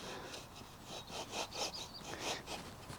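A stick dragged through allotment soil to score a sowing line, a soft rhythmic scraping in several short strokes, close but quiet, with faint birdsong in the background.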